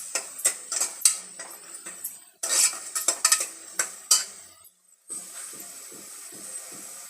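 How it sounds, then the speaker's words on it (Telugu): A salted vegetable rice mixture for biryani being stirred in a metal pot, with close rhythmic scraping and clinking of a spoon in irregular bursts, a short pause, then softer stirring over a faint sizzle. "కాస్తంత ఉప్పు వేసుకొని చూడండి, ఒకసారి కలుపుకోవాలి."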